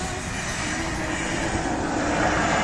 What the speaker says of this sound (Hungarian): itt megy az Intercity